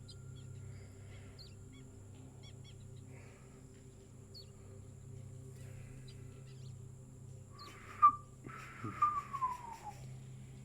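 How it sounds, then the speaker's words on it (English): One faint, sliding whistle rises and then falls late in a quiet outdoor scene, set against a low steady hum and a few scattered soft chirps. "A whistle"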